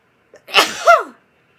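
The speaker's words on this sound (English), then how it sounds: "Sneezed again." A single sharp sneeze, close and loud, with a short breathy intake just before and a rising vocal tail at the end.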